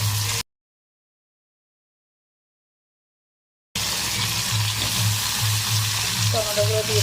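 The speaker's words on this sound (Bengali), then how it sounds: "তেল আমার গরম হয়ে গেছে, 5 ফোড়ন দিয়ে দেবো, আদা কুচি" Five-spice seeds and chopped ginger sizzling in hot oil: a loud, even frying hiss that cuts out into a brief silence, then returns with crackling.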